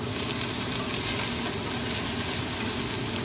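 Onions sizzling in a pan as the base of a sauce for mussels, a loud, even, continuous frying hiss close by with faint stirring and no talk.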